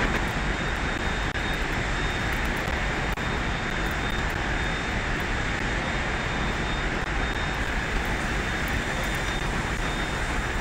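A steady, loud airplane engine drone throttled down during a landing approach in a flight video game, holding an even, unbroken roar throughout.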